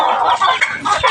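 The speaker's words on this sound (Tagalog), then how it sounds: "Magpakain tayo sa mga manok ng ating asawa." Loud, close chickens clucking and squawking in a busy, continuous burst while being fed on a rainy afternoon.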